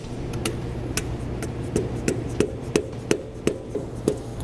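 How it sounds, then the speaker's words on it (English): Dead blow hammer tapping a dust cap onto a trailer hub: a steady series of about a dozen sharp, fairly close taps at an even rhythm over a low background hum, with no talking. "just using a dead blow hammer"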